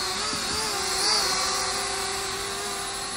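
An Eachine E56 selfie drone hovers nearby, its small propellers giving off a continuous high, whiny buzz that swells slightly in pitch for a moment before settling back to a steady drone.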